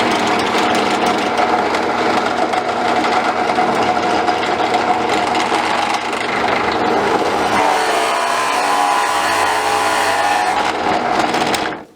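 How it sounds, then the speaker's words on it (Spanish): A power drill with a 3/4-inch flat spade bit bores into wood, a loud steady whirring drone running close and continuous for about twelve seconds before winding down at the end. "Estamos utilizando una broca plana de 3/4."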